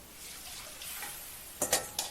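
Flour and vegetables cooking in a pot for clam chowder, a faint steady sizzle close by, ending with a few sharp scrapes of a utensil stirring against the pot.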